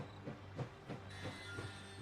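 A train running in the video game Last Train Home gives a steady low rumble with faint rhythmic clacks and a soft hiss, fairly quiet and continuous.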